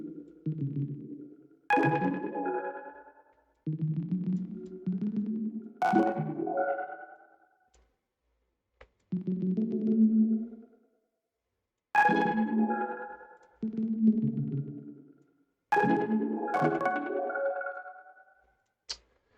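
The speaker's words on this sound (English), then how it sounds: "bubble convolution reverb that we've got on this channel. It sounds so good." Ambient synth phrases rise and fade in repeating bursts, each blooming into a shimmering, bubbly convolution reverb tail, separated by short silences.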